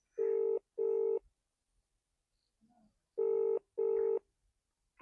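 A phone call is dialed and rings out: two pairs of short, evenly spaced electronic tones separated by a quiet gap, faint and with no talk.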